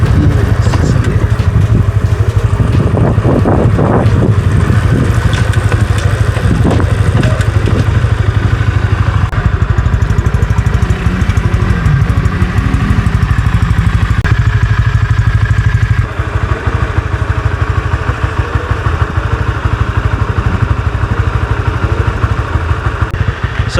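Honda WinnerX150 underbone motorcycle with a six-speed manual gearbox, engine running steadily throughout while riding and shifting gears, a loud continuous low drone with some clatter and thumps, brief faint voices in places.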